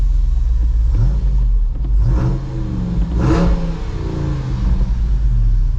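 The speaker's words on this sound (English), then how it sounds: "You got the deep V8 rumble." A Jeep Wrangler 392 V8 on its stock exhaust revs several times, the deep rumble swelling in surges over a steady low idle, heard close from inside the vehicle.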